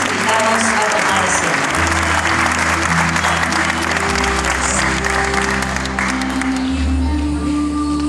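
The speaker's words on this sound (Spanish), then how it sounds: "Le brindamos un fuerte aplauso a los estudiantes licenciados" An audience at a school graduation ceremony, Escuela Enrique Zañartu Prieto, applauds graduating students in a sustained burst of clapping, with a low sustained musical tone underneath and faint voices.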